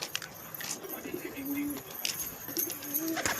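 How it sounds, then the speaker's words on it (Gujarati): Pigeons coo steadily in a loft where many birds and their small chicks are kept. Soft, repeated, throaty calls overlap close by without pause, over a low background hum. "ઘણા બધા કબૂતર છે,"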